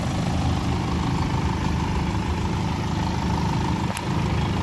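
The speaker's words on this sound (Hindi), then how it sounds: "ये इसका इंजन अभी चालू है" A BMW 525d diesel engine idles with a steady, even low rumble and a faint whine above it, continuous and close, under a workshop setting with the air conditioning running and no speech.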